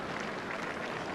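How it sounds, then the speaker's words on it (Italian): A crowd greeting President Mattarella breaks into steady, dense applause, a continuous wash of clapping that holds evenly throughout at moderate distance. "lo sentiamo in questo momento, sentiamo scroscianti gli applausi"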